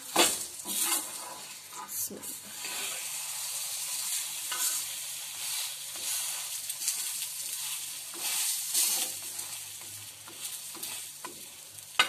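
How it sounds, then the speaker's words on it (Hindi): Potato tikki frying in a pan over a low flame, giving a steady, soft sizzle that runs the whole time with faint crackles and occasional light scrapes, close up and with no talking. "तो बहुत लो फ्लेम पे इसको पका लेंगे दोनों साइड से।"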